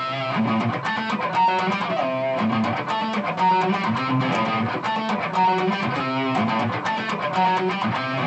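Electric guitar runs through a VOX 847-A wah pedal parked in one position, playing a busy, loud, distorted rhythmic riff with dense repeated chord stabs throughout.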